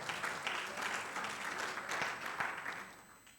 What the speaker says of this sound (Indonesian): Ayo berikan tepuk tangan.